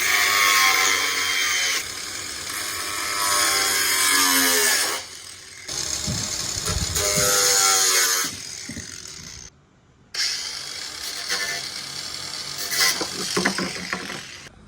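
Power tool cutting into a Mercedes-Benz 190E front fender, a loud high-pitched grinding whine in sustained bursts separated by short pauses, with no talk.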